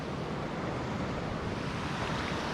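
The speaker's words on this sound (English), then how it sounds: "And I'm out on a river" Rushing water on a Central Texas river on a hot day, heard as a steady broad wash of noise with wind buffeting the microphone.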